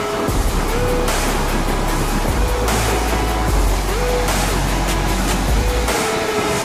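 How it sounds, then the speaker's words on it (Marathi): Water rushes at Khadakwasla Dam near Pune in a loud, constant roar, with a low engine-like rumble and hum running beneath it. "नुसतं पाण्याचा आवाज आहे"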